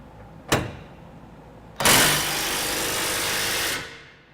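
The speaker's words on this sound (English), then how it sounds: "We're going to be using our electric impact with a 1 1/8 inch drive." An electric impact wrench with a 1 1/8 inch socket snugs the top bolt of a trailer hitch on a 2012 Dodge Ram 1500, giving one short click and then a steady, loud whirring buzz that lasts about two seconds and fades.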